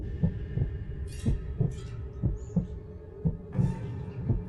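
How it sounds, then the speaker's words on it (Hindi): A racing heartbeat sound effect: a steady, quick series of deep thumping beats, close and prominent, with a faint high hum in the background. "यह नजारा देख के उनके दिल की धड़कन तेज हो चुकी थी एकदम"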